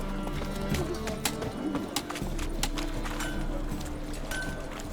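Roach, Geralt's horse in The Witcher 3 on PS5, clip-clops along Novigrad streets at a steady trot, hooves close and clear over a busy town ambience with birds and distant voices.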